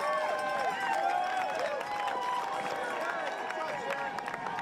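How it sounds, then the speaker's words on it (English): Crowd cheers and shouts along the finish stretch of a New York 10K road race, a sustained roar of voices with a commentator talking over it. "You can hear the crowd"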